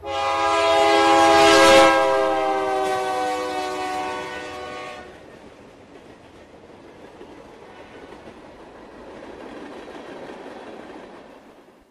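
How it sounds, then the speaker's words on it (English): A passing train blasts a long, loud horn chord near the start, then fades into rumbling rail noise and clatter as the cars roll by. "Train."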